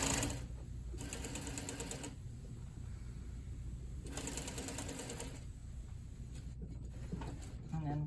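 Sewing machine stitching fabric for an overlock seam on a shawl collar sample, in two loud bursts of rapid mechanical whirring about a second long each, separated by quiet room tone, up close.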